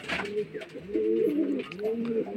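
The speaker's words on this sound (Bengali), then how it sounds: "চলুন আর দুটো পায়রা দেখায়।" Domestic pigeons coo in low, throaty rolling calls, two or three bursts close by within a couple of seconds, with a brief sharper sound at the start.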